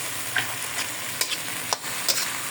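Tomatoes are mashed and stirred in a hot sautéing pan with century tuna, giving a continuous close sizzle broken by a few sharp scraping clinks of the utensil against the pan.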